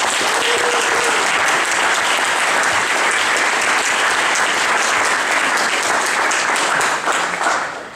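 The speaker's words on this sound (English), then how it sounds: "Let's have a collective round of applause" Steady, full applause from an audience at a graduate awards ceremony, dense clapping holding evenly for about eight seconds before starting to fade at the end.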